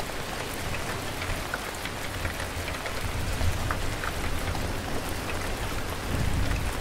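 Steady storm rain with wind rushing in the sailing game Make Sail, a dense, even hiss of downpour that continues unbroken from start to finish with no voices.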